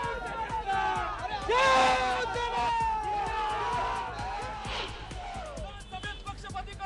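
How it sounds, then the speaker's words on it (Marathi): Celebration by a Shiv Sena mayor and corporators outside municipal headquarters: a crowd of voices cheering and shouting together, with a louder swell of cheers near the start and busy chatter throughout. "पालिका मुख्यालयासमोर महापौर आणि शिवसेना नगरसेवकांचा जल्लोष सुरू होता"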